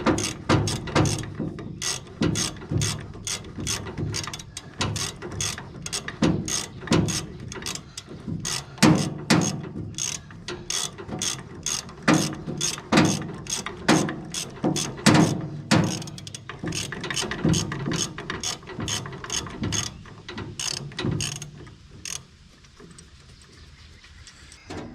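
Seized tractor engine being forced to turn over, rapid repeated mechanical ratcheting clicks and clunks in uneven bursts, loud and close, slowing and fading near the end with no talking.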